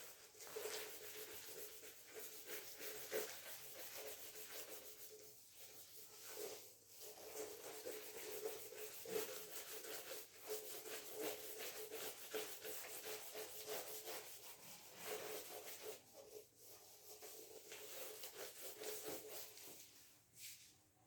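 A board being wiped clean of written working, a soft continuous rubbing with rhythmic back-and-forth strokes, faint and close, no speech over it.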